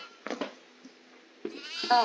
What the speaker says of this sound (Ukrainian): це козел.